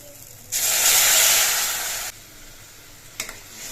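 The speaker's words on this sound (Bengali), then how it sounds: "আমি যে গরম জলটা বসিয়েছিলাম সেই গরম জলটা দিয়ে আমি ঝোল দিচ্ছি" Hot water poured into frying spices for a rohu fish curry sets off a loud, sharp hiss and sizzle that lasts about a second and a half and then drops away, followed by a brief clatter.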